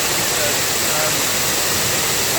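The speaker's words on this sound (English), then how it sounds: "It's not the most spectacular waterfall in the world" A small waterfall pours over a gabion retaining wall in Yuen Long Town Park, Hong Kong, making a constant, hissing rush of falling water that stays loud and even from start to finish.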